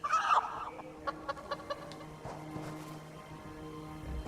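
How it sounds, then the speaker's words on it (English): Chicken-like squawking and clucking from a bird in the video game Elder Scrolls Online, a loud burst at the start followed by a series of short clucks over a low ambient game background. "I said stop squawking, you foolish man."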